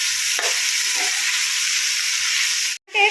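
Green chillies and ash gourd fry in a pan with a loud, continuous hissing sizzle and a few stirring scrapes, then break off briefly before resuming near the end.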